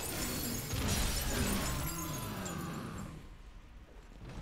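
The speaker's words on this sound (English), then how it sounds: "I like the glass breaking sound when you break their guard" A shattering glass effect marks an enemy's guard breaking in the action game Wo Long: a loud, bright crash that spreads into a ringing tail and fades after about three seconds.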